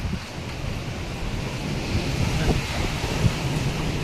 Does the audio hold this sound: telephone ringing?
no